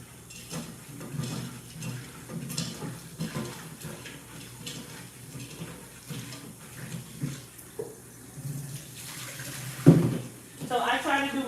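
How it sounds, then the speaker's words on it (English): Tap water runs steadily into a sink while cauliflower is washed, a continuous close splashing stream with faint clinks and handling noises, growing louder and more spattery near the end. "I'm gonna go ahead and wash it just as I did my Brussels sprouts"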